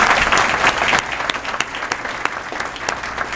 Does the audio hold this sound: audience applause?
yes